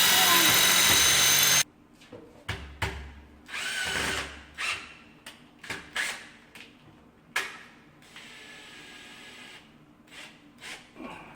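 Power drill driving screws into a wall to mount a straight wall shelf: an opening burst of steady whirring, then a string of short, separate drilling spurts, close and moderately loud.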